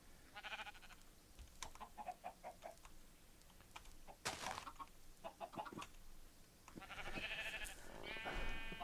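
Minecraft sheep bleat several times in quick succession, with a few short clucks and other game sounds in between, all clear and close. Near the end a long, steady tone rises and holds.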